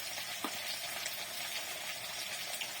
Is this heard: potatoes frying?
yes